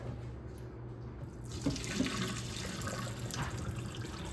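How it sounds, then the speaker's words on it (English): Boiling water poured off a pot of saltfish in a home kitchen while making Jamaican saltfish with okra and tomatoes, a steady rushing splash into a sink, fairly close and even, lasting the whole stretch with no speech. "I'm throwing off the first amount of water that it was boiled in"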